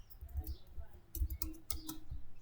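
Sharp computer mouse clicks in a quiet room, a few scattered taps spread across a couple of seconds, faint and close, with low background hum.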